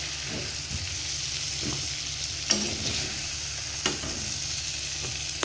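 Eggplant fries in fish oil from katla fish with a steady crackling sizzle, while a few scraping stirs and clinks of a utensil against the pan stand out above it.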